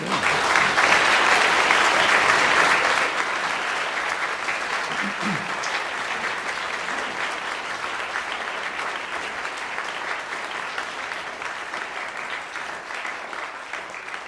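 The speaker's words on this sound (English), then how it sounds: "Shall we give them a round of applause?" Audience applause after soloists' performances at a school concerto competition final, a sustained round of clapping that is loudest at first, then settles to a steadier, slightly softer level and continues throughout.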